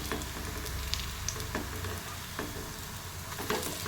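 Green pea and potato cutlets fry in hot oil with a steady close sizzle, broken by a few soft scrapes and taps as they are turned in the pan.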